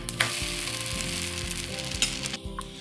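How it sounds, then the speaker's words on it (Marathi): A Konkani amboli rice-batter pancake sizzles steadily on a hot pan after being flipped, with a constant close crackle, light scrapes and a few sharper ticks, no voices. "मी आता हे पलटी मारून घेते"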